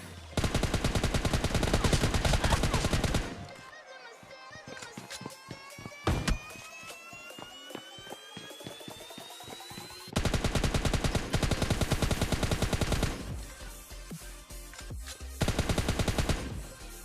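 Gunfire in the mobile battle game PUBG Mobile Lite: long dense bursts of rapid automatic shots alternate with a quieter stretch of scattered single shots and thuds, loud and close.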